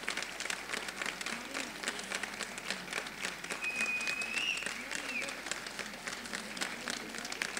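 Theatre audience applauding to welcome a director who graduated from the National School of Drama, a moderate, sustained patter of clapping with faint voices and a brief whistle-like tone partway through.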